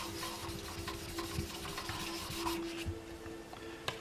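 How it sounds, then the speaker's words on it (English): Sandpaper rubbing steadily at a paint run on automotive clear coat, a continuous close scratchy rasp with small strokes and slight rhythmic pulses, no talking. "you don't want to catch it with the edge of the sandpaper"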